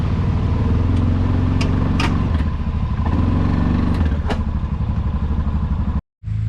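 A Yamaha Rhino 700 side-by-side UTV engine chugs and revs low as it climbs onto a ramp, with clanks and rattles over the steady engine drone before it cuts off abruptly near the end.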